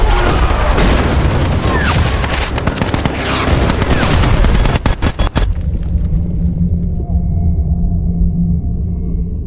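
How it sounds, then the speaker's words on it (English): Mortar explosions and rapid machine-gun fire from a war film boom and crackle loudly up close in dense bursts, then cut off abruptly to a low lingering rumble and ringing hum. "all the soldiers on site were hit by a surprise mortar attack from the Taliban"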